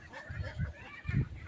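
Ducks at a duck farm beside an irrigation canal, where a few hundred ducklings are kept, give two short, fairly faint honking calls, one early and one near the end, against low background noise.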